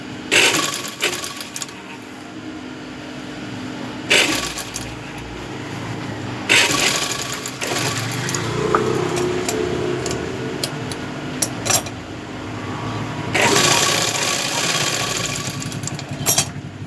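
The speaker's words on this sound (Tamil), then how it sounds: "பின்பக்கத்தில் இந்த ஓப்பன் தைக்கிறது எப்படின்னு சொல்லித்தரேன்." A sewing machine stitching an open seam on the wrong side of fabric, running in several sustained bursts of rapid whirring separated by short pauses, close and fairly loud.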